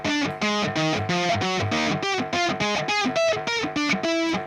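An electric guitar with distortion plays a quick run of tapped notes on strings muted to sound dead, each note bright and sustained in a steady rhythm, with no talking.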